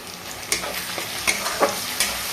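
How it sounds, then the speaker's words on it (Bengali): Bitter gourd fries with spice paste and salt in a pan, a close, steady sizzle broken by quick spatula clicks and scrapes every half second or so. "ভালো করে পেস্ট দিয়ে ভালো করে ভেজে নিচ্ছি লবণ দিয়ে দিলাম"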